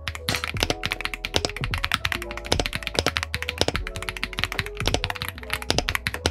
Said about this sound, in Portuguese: vou deixar ele aqui em frente ao teclado para vocês escutarem